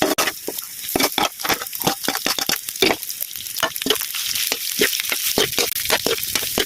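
Garlic and onion sautéing loudly in a hot pan for bistek tagalog, with a steady crackling sizzle and repeated scraping stirs close up, with no talking.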